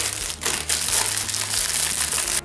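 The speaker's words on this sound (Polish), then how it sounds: "Zaraz odpakuję z tej folii, tylko chyba będę potrzebowała nożyczek z tego celu." Plastic foil wrap crinkles and crackles as a package is unwrapped, a close, steady rustle with a few louder crunches and no talking over it.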